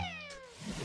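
A short, bright cat meow from the cat bell power-up in Super Mario Maker 2, sounding with a chiming game effect and falling tone, clear and close with no talking.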